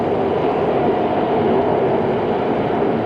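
Washington Metro subway train running, a steady low rumbling roar of the cars in motion that holds evenly throughout without voices.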